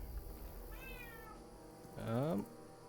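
A house cat meows twice, a soft rising call followed by a louder, longer meow, close by over quiet background hum from a Kingdom Come Deliverance 2 game stream.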